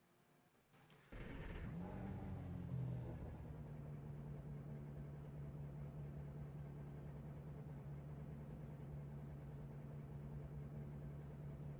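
A racing car engine at Watkins Glen in the iRacing simulator, heard from inside the car, starts abruptly after a click and then settles into a steady, even low drone that continues unchanged.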